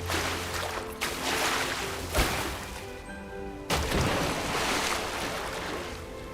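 A broad, steady roar of falling water from a large waterfall in The Legend of Zelda: Breath of the Wild, continuous throughout with brief crashing accents, and no one speaking.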